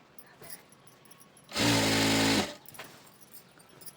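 Sewing machine running in one steady burst of about a second while stitching a petticoat seam from the inside, loud and close against a quiet room.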